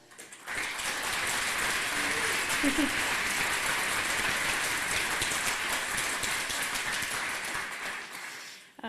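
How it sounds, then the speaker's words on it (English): Applause from a conference audience greeting a speaker at a hacker congress rises quickly, holds as a dense, even patter of clapping for about eight seconds, then fades out. "So please give her a huge round of applause."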